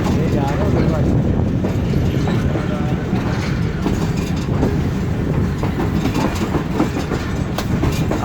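A train rolls past on Pakistan's Lodhran–Khanewal chord line, a loud continuous rumble of wheels on rail with steady clickety-clack of carriages going by close up, filling the whole stretch without a break.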